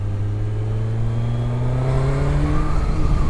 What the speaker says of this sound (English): you really feel that ram air system kicking in when you get past a certain RPM.